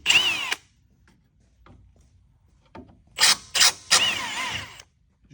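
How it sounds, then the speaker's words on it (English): A power drill whines in short bursts, first once and then three quick pulses, biting through aluminum on a 2021 Ford F-150 with quiet pauses between. "You can see it was aluminum, drilled really easy."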